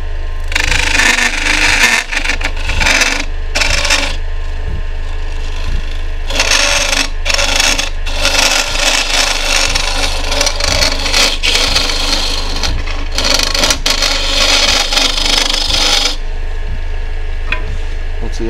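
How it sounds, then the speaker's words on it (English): A small carbide-tipped gouge cuts a spalted birch bowl on a lathe, giving a loud, continuous rough scraping and shaving hiss over a steady low motor hum, with brief pauses and renewed bursts of cutting. "The primary tool I'll probably use right now is I have this small gouge here"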